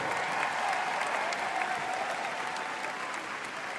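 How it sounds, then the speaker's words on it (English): Steady applause from a large indoor audience at the Crufts dog show, loud and continuous with no single claps standing out, easing slightly toward the end. "And now, keep the applause going."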